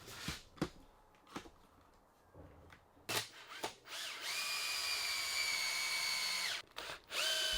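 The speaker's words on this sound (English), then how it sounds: "I can get some screws driven in" Cordless power drill driving screws into timber while building a wooden garden bench: a few short clicks and bursts, then a sustained whining spin of about two and a half seconds, near and loud, with no talk.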